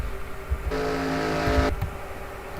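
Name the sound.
race cars driving in an online racing video game at Pocono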